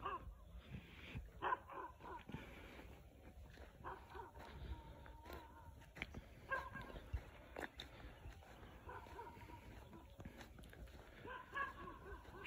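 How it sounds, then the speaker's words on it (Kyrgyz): Dogs bark intermittently out in the desert near an Arab village, faint and fairly distant amid quiet outdoor ambience, with soft voices and other animal sounds around them. "иттер үрүп атат."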